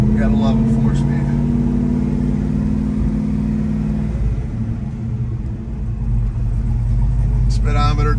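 A 1969 Chevelle SS 396 V8 with a four-speed rumbles steadily at idle, deep and close, with a brief rise in engine note near the start and voices talking over it.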